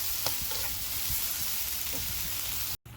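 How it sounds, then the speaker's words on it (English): Aromatics sauteing in a pan for sweet and sour ribs give a steady, close sizzle with faint stirring clicks, running evenly until a brief cut near the end. "It's just sauteed until fragrant and soften"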